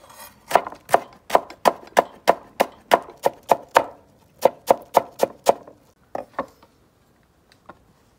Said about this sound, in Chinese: 里边再切点这个洋葱碎